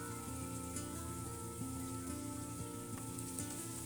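Garlic frying in a pan after peppers, a steady close sizzle with soft crackles and faint stirring, no voices.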